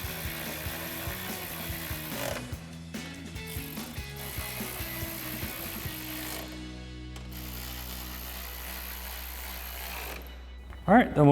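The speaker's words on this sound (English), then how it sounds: "now we can grab our ratchet and 10mm socket and reinstall our 4 10mm bolts" Ratchet with a 10mm socket clicking as four bolts are reinstalled on a 2009-2018 RAM 1500, steady mechanical ticking under a continuous background tone, ending with a brief louder clatter.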